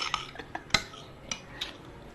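A metal spoon stirs dinakdakan, a Filipino grilled pork dish dressed with calamansi, in a bowl, giving a string of light scraping clinks and a few sharper taps at an irregular pace.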